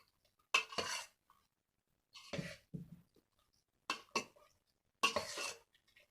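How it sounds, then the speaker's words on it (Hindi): A spoon stirs chana chaat with onion, tomato and boiled potato in a bowl, making four separate bursts of scraping and clinking with short quiet gaps between them, close and fairly soft, with no talking. "अब इसको मैं मिक्स करती हूँ।"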